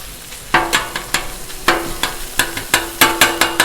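Sausage and bacon fry on a Blackstone griddle: a steady close-up sizzle, broken by repeated sharp clinks and scrapes of a metal spatula in an uneven rhythm, with no talking.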